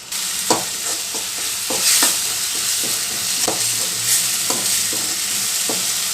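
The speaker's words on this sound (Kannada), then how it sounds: "ಚೆನ್ನಾಗಿ ಎಣ್ಣೆಯಲ್ಲಿ ಫ್ರೈ ಮಾಡಬೇಕು ಮೇಲ್ಗಡೆ ಎಣ್ಣೆ ಬರೋ ತನಕ ಇದನ್ನು ಮೀಡಿಯಮ್ ಫ್ಲೇಮ್ ಇಟ್ಕೊಂಡು ಫ್ರೈ ಮಾಡ್ಕೋಬೇಕು" Curry leaves rice mixture frying in oil in a pan over a medium flame gives a loud, steady sizzle, broken by repeated scraping knocks of a stirring spoon. No voices.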